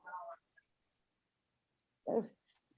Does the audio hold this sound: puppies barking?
yes